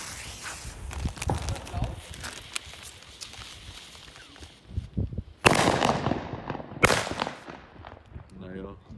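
Nico Super Bella 2 firecracker going off, two sharp loud bangs a little over a second apart near the end, after quieter rustling and footsteps with some talk.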